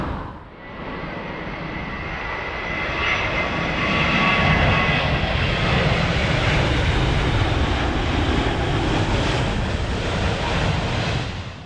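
A Turkish Airlines airliner at Heathrow Airport gives a loud, steady engine roar that swells and holds throughout, with no talk over it.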